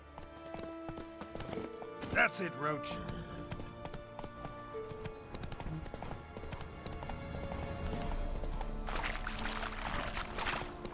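A horse gallops in The Witcher 3 video game, with rhythmic hoofbeat clip-clops running through the scene and someone talking over them.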